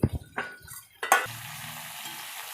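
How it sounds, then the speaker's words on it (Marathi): Stuffed green chillies frying in a pan, heard first as a few short scraping clatters, then as a steady, close sizzle that keeps going to the end. "तर बघा मैत्रिणीनं आपली मिरच्या अशा फ्राय झाल्या आहे बघा"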